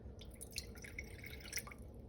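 Water trickles and drips faintly into a sourdough starter jar sitting on a kitchen scale, with small irregular splashes in a quiet room.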